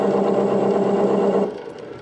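A wood lathe spins a turned goblet at 500 RPM with a steady whirring hum that cuts off and winds down about one and a half seconds in.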